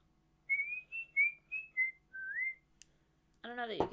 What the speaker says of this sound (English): I don't know that you could hear that, but I whistled.